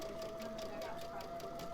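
Sewing machine stitching with a 1/4 inch foot and a 2.0 stitch length, a steady, fast, even whirring hum with a constant mechanical tone, close and moderately quiet.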